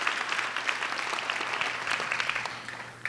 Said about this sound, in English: Gotta clap again, gotta applaud again.